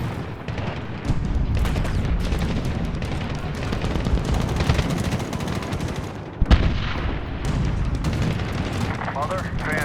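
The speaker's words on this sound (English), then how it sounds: "we're taking mortar fire at our position." Mortar fire and gunfire in the video game Medal of Honor 2010: a continuous dense roar of shooting and explosions, with a sharp louder blast midway and radio-style voices speaking over the combat.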